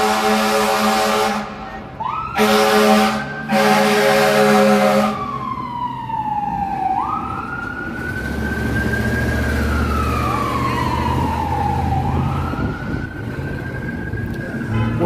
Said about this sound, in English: Boy, those trucks have loud horns.